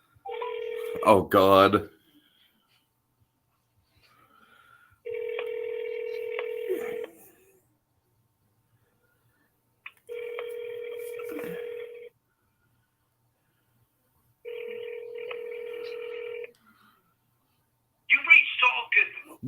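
Telephone dialing tones sound in several evenly spaced bursts, each a steady two-tone beep lasting about two seconds, with a person speaking briefly before and after them.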